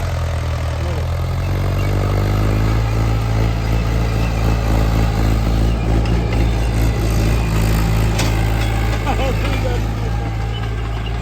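A Swaraj 575 tractor ploughs a field with an eleven-tine cultivator, its diesel engine producing a loud, constant, throaty drone close by, with the revs rising slightly and people talking over it.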